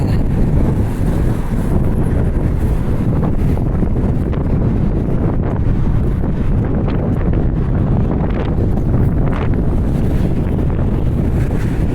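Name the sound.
strong wind on a bridge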